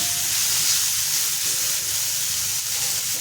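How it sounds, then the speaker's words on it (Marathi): Wild foraged greens stir-fried with salt in a hot pan give off a steady, close, loud sizzling hiss that holds for a few seconds without speech. "त्याच्यामध्ये मीठ टाकून घ्यायचे आणि पुन्हा परतूया।"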